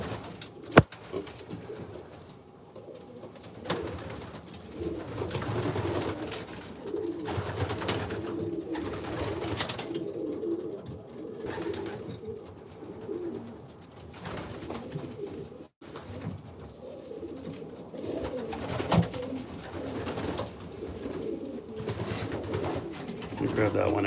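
Pigeons coo softly and repeatedly in a breeder loft, with low, rolling calls that continue throughout. Someone talks close by over the birds.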